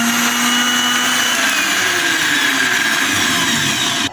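A mixer jar grinds mint leaves for a strawberry shake, a loud, close, steady motor whine with a whirring blade churn that holds evenly for several seconds before cutting off abruptly at the end.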